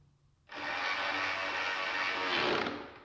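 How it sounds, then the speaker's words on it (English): A carriage bolt is tightened with a grinding, ratcheting mechanical sound that runs steadily for about two seconds, close and fairly loud, then stops, with no talking. "tighten up the carriage bolt."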